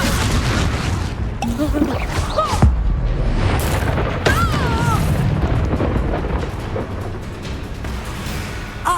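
Confringo blasting spells fired in Hogwarts Legacy combat, a dense run of loud booming explosions and crackling bursts with whooshing magical effects throughout, close and continuous.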